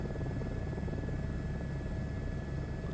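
A helicopter in flight during a late-night trip, its engine and rotor making a steady, loud, unbroken roar and whine throughout, with no voices.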